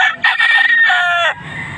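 A single loud, close cock-a-doodle-doo from a bull stag rooster of the Talisay type, offered for sale, a long strained crow that trails off into quiet background noise.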